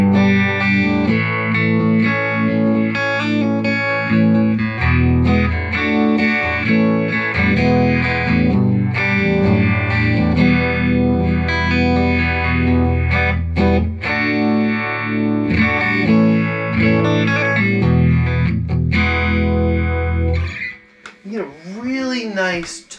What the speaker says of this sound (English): Put my phaser on in here.